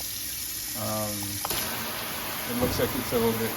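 A Kohler kitchen sink faucet switches to spray mode with a sudden hiss and splashing mist, preceded by someone talking, who speaks again over the spray.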